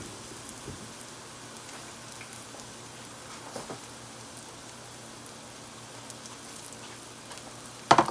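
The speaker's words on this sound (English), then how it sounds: "So now I'm just going to put it in my oil here." Pizza dough frying in a pan of hot oil, a steady dense sizzle with soft crackling throughout and a sharper pop or two near the end, no talking.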